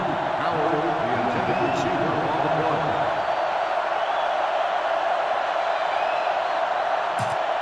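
Stadium crowd noise in the NCAA Football 2005 video game during an Arkansas vs. Florida matchup: a dense, constant roar filling the whole clip, with a commentator's voice talking over it at the start.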